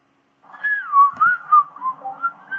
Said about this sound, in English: I heard whistling and then kind of nothing else